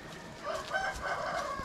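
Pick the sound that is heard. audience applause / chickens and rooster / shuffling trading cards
chickens and rooster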